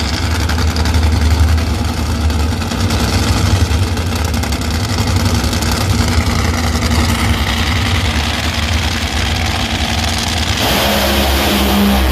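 A drag racing car at the U.S. Nationals accelerates hard, its loud engine roaring continuously at close range before the tone shifts sharply near the end.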